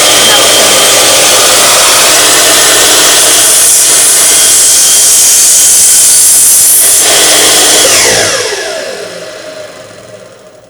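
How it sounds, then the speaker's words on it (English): A miter saw cuts a wooden workpiece with a loud, steady whining roar that holds for about eight seconds, then fades as the blade spins down, with no talking. "Be sure to let the blade stop spinning before you pull it out of the wood."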